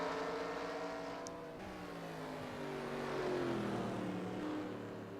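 Anime-styled race cars in a racing video game at Delaware Speedway drone close together, a faint, continuous layered engine whine with shifting pitches sweeping up and down as the cars jostle for position.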